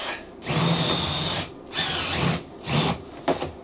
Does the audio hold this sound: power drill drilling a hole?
yes